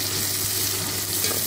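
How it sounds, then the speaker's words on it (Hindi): Chopped onions frying in hot oil in a pan, giving a steady, close, hissing sizzle with faint stirring, no voices. "इसके अंदर हम ये प्याज कटी हुई डाल देंगे और इसको तब तक भूनेंगे जब तक ये गोल्डन हो जाए"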